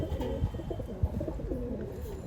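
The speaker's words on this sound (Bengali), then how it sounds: "কবুতরগুলো দেখেন আগে, চমৎকার কবুতর" Pigeons coo softly nearby, a few low throaty rolling calls repeating in short bursts over quiet background, with no voices.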